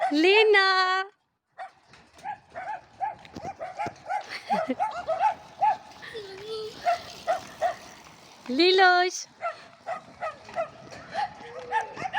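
A dog yelps and whines in short bursts at the start and again near the end, with lively chatter and background noise between.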